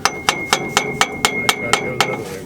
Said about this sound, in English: let me take a hammer and see if we can tap it in.